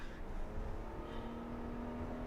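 A 2017 Nissan Murano Platinum AWD with a CVT accelerates onto a highway, giving a steady, smooth engine drone with a rising whine heard from inside the cabin, with no talk.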